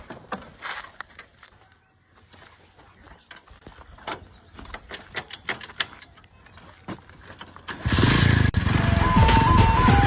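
A motorcycle is ridden off to fetch petrol: scattered mechanical clicks and rattles come first, then the engine bursts in loud and steady close by for the last couple of seconds.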